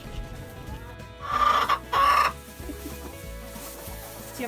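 Chickens in a coop cluck and chatter while fresh shavings go into the droppings trays. Two loud, close squawks rise above a busy, lower background of clucking and rustling.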